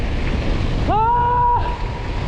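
Strong wind rushes steadily through tunnel 28, a 178-foot former railroad tunnel on the Hiawatha bike trail in Idaho, a broad continuous roar with a brief whistling tone rising partway through.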